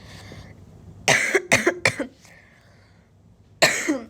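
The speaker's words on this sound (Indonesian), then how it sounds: "batuk lagi guys, maaf ya guys." Several harsh coughs in a short burst, then a pause and one more cough, close and fairly loud with a quiet background.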